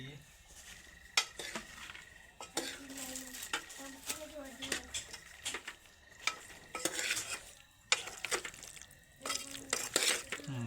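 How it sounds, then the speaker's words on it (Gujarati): Pasta is stirred in a pan over a soft sizzle, with repeated close scraping and clinking of a utensil against the pan in irregular strokes. "મિક્સ કરી દઈએ."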